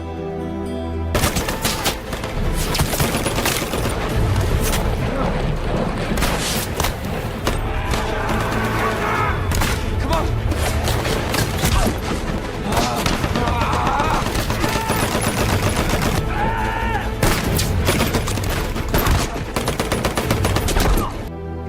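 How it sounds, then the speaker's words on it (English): Enemy machine-gun fire and rifle fusillades fill a battle scene in the war film Hacksaw Ridge, loud and relentless for over twenty seconds, with dense overlapping bursts and heavy thuds. "the two finally escape Hacksaw under enemy fire"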